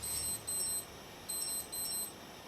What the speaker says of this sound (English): It's an alarm.